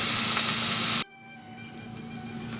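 Onions and vegetables for chorizo tamales fry loudly in a pan, a dense close sizzle that cuts off abruptly after about a second and leaves a quiet residual hiss.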